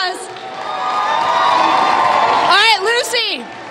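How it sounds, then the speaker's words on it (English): A crowd cheers loudly and steadily at a high school pep rally at Grossmont High School, then excited voices whoop and shout over the din near the end. "Everybody give her a round of applause!"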